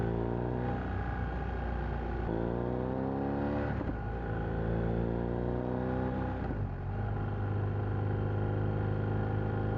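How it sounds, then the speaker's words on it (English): A BMW R1250R motorcycle revving through an SP Engineering silencer, its engine note sweeping up and down in several repeated throttle blips, loud and close with a deep harmonic rumble and no voices. "That sounds really nice through the SP Engineering silencer."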